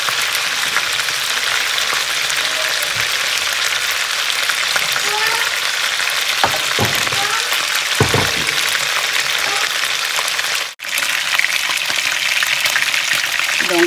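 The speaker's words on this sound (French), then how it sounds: "pendant que je suis en train de faire ma friture" Chicken sizzling steadily in a pan of hot oil, a loud continuous crackle with occasional stirring clatter and one brief dropout near the end.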